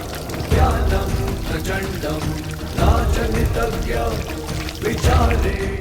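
Water poured into and out of a kalash pot, a steady splashing pour in repeated surges over music, each swell rising about every two seconds.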